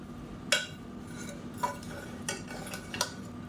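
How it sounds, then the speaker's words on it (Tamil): A spoon stirring cooked biryani rice in a pot, with several distinct metallic scrapes and clinks against the pot spaced irregularly, close and clear with soft rustling of rice between them. "கீழேருந்து மேலே வரைக்கும் கிளறி விட்டுக்கலாம்"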